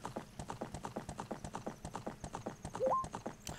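Horse hooves clip-clop in a fast, regular gallop rhythm in The Legend of Zelda: Ocarina of Time. The beats are close and even, with a brief whinny near the end, and no voices.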